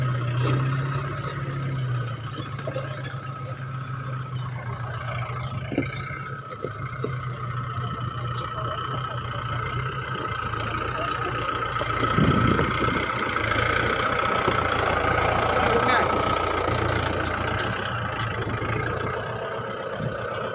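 A steady, low tractor engine idles continuously with a constant rumble and a mechanical hum, getting slightly louder near the middle, during an attempt to pull a fallen closed van.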